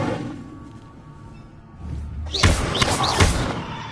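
Incendio fire spell cast in Hogwarts Legacy on PS5: a quiet rumble, then a thumping whoosh that bursts into a loud, crackling roar of flame lasting to the end.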